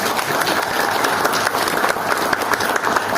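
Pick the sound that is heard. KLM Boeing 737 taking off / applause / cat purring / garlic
applause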